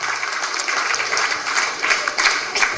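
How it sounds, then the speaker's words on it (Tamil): A crowd at an anniversary function gives strong, sustained applause, dense clapping holding at an even level throughout with slight surges. "மிக பலமான கரகோஷத்தின் வழியாக நாம் தெரிவித்துக் கொள்வோம்"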